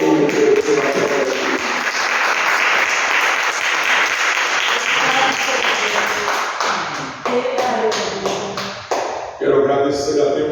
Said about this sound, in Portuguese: Você pode aplaudir ao Senhor Jesus a quem ofereceu a terra.